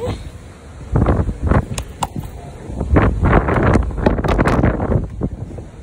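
Strong wind gusts blasting sand at an outdoor spot, roaring broadband rushes rising and falling over about six seconds with loud buffeting against the microphone, no voices.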